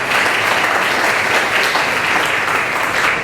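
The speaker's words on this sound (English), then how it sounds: "as a club we got to give ourselves a round of applause" Members of a Rotary Club in Tulsa applaud together at a club meeting, producing an even, continuous burst of clapping at steady volume from start to finish.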